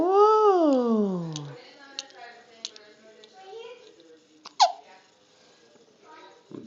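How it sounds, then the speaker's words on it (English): A baby hiccups in a home setting. An adult voice coos at the start, then several short, sharp hiccup catches come at irregular intervals, close by and moderately loud. "Baby's got the hiccups."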